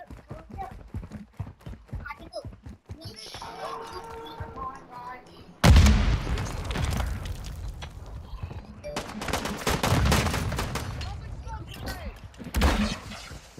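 Sniper gunfire in Call of Duty Modern Warfare II: a sudden loud blast, then a sustained rattle of shots, and another sharp crack near the end, amid clattering game noise and voices.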